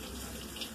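Cold water runs steadily from a kitchen tap while sushi rice is rinsed, a close, continuous gushing splash with no talk over it.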